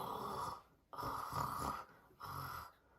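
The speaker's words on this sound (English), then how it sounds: "Peppa, George, Grandpa Pig and Granny Pig are all snoring on the sofa." Cartoon pigs asleep on a sofa snore in three loud, close, rhythmic breaths, each a rasping rumble separated by short quiet pauses.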